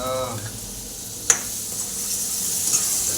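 Salted food, onion and tomato, sizzling in a pan while being stirred: a continuous close hiss with soft scraping and one sharp metallic tap of the spatula, and a voice murmuring faintly at the start.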